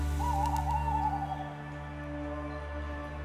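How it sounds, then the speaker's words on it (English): A tawny owl hoots once at night, a clear wavering call standing out over a steady low hum, followed by quiet. "listening to the tawny owls"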